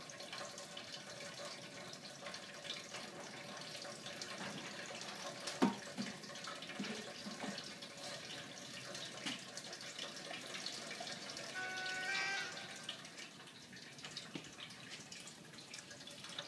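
Water runs steadily from a tap into a basin, a soft continuous splashing with a few faint clinks, fairly quiet and close.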